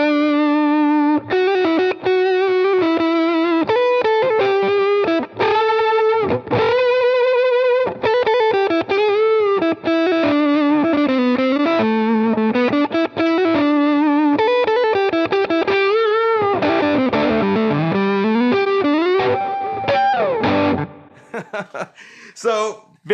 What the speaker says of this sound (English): if you have like a fuzz pedal and you get down to the neck pickup and roll it down, you get that nice kind of woman tone